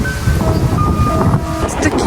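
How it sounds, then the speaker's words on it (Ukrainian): Strong wind blowing in Warsaw's Old Town on a cold day, roaring and buffeting the microphone loudly and continuously, with faint voices and distant traffic tones mixed beneath. "Мене унесе вітром."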